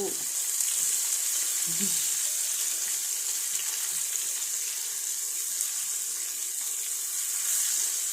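Sardines fry in a hot pan with a steady, close sizzle and crackle that holds evenly throughout, and no one speaks.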